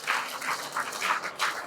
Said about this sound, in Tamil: கைத்தட்டலாம் நீங்க அவருக்கு